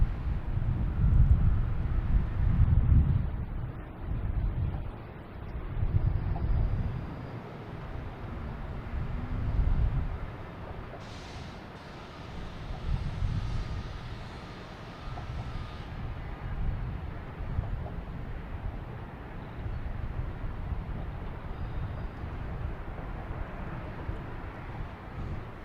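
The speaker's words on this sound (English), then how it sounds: "We have a JetBlue coming in from San Francisco. An A321." A JetBlue Airbus A321 arriving at Boston Logan from San Francisco gives a steady, distant low jet rumble that swells and fades, mixed with wind buffeting on an outdoor microphone, with no talking.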